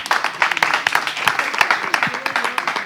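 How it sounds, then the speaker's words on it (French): A small audience claps at a lively game show event, a brief burst of scattered, uneven handclaps lasting a few seconds. "On applaudit pour eux."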